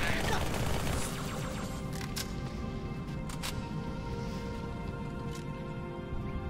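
Rapid gunfire in Halo 2, a dense stream of shots at moderate distance with a couple of sharper cracks, set against a steady low rumble of combat noise.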